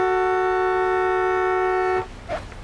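A car horn blares in one steady, loud blast lasting about two seconds, then cuts off, followed by a brief faint noise.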